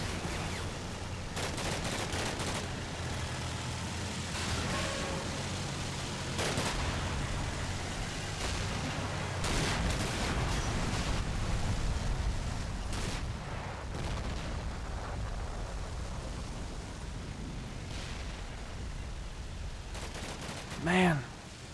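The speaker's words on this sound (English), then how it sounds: "So these mortars are firing emergency fire right now" Mortar crews fire emergency rounds in the Combat Mission: Black Sea war game during a Russian tank assault, a steady rumble of overlapping booms and gunfire rolling on continuously, with a sharper burst near the end.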